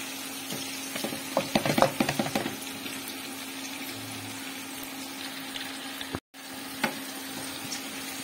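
Onions sauté in a pan for chicken tinola, giving a steady low sizzle with a burst of stirring clatter early on and a brief dropout near the end.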